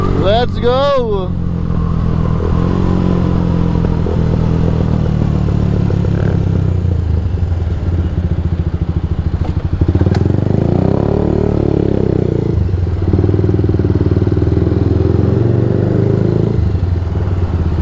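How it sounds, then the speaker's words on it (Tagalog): A Kawasaki Rouser 180 motorcycle engine runs loud and steady while riding, with a brief squeal at the start and a voice talking over the drone. "Napakalakas pa rin talaga nitong motor na to."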